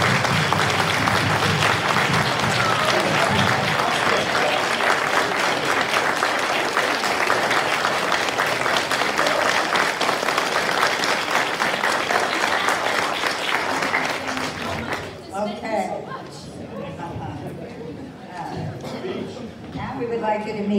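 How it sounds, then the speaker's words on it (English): HOA meeting attendees applaud a departing colleague with loud, continuous clapping for about fifteen seconds, then it stops abruptly and talking takes over. "We wish her the best, so let's give her a round of applause"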